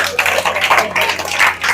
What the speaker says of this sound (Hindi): बहन, जोरदार तालियां।